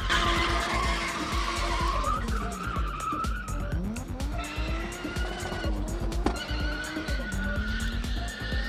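Turbocharged race car skidding on a skid pan, tires squealing in long sliding wails while the engine revs and surges, loud and continuous throughout.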